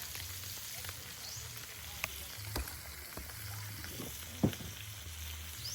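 Onion dropped into hot oil for a glass-noodle dish cooked outdoors by a river gives a faint, steady sizzle throughout, broken by a few soft clicks and taps from utensils.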